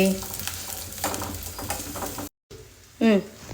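Small shallots frying in oil for kuzhambu, a steady sizzle with soft stirring scrapes, broken by a brief cut, then a voice speaks over the frying.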